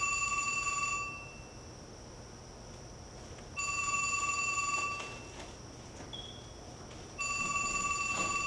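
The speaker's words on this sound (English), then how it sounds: "Pick up the phone." A telephone rings in repeated bursts, each a bright electronic trill lasting about a second and a half, separated by pauses of roughly two seconds, clear and fairly close over a quiet background.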